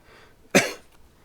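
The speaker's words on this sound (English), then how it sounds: "I'm not coughing long enough to mute the mic" A single sharp cough, close and fairly loud, rising abruptly from near silence and trailing off quickly.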